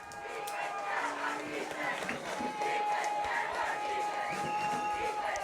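Loud, steady roar of two crowds at a Friday night high school football game between Valley Center and Andover Central, with cheering swelling throughout under a faint announcer's voice.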